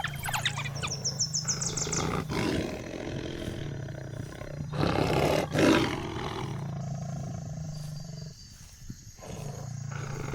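A lion roaring on the African savannah: deep, drawn-out roars and guttural grunts come in several bursts over ten seconds, fairly close, with faint bird chirps in the background.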